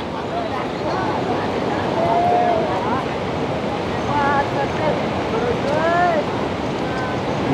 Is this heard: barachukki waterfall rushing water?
yes